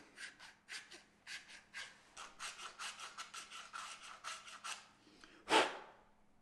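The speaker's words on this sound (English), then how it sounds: "So that was a file" A hand file rasps in quick, rhythmic strokes as it shapes the front edge of a bow grip. The strokes are close and fairly faint, about twenty in a row, followed by a single louder scrape near the end.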